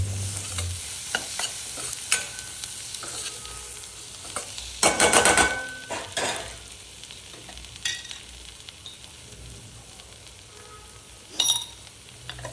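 Tomatoes with salt fry in a pan, a quiet continuous sizzle broken by repeated utensil scrapes and stirring clinks, with one louder burst of clattering stirring partway through and another near the end.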